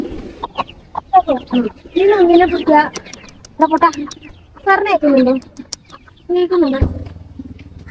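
Hens cluck and chicks peep close by in bursts, mixed with people talking nearby.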